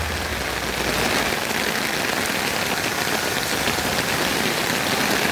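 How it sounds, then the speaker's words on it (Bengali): Heavy rain pours steadily over a city, a dense, even hiss of drops striking surfaces that holds at a constant loudness from start to finish with no voices. "দেখেন কি পরিমাণ বৃষ্টি হচ্ছে"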